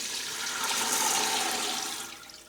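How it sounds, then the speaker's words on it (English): Water pours from a tap into a large pot of dried beans as a steady rushing stream that swells in the middle and eases off toward the end, close and fairly loud. "So I'm getting enough water in here to cover them by a couple of inches"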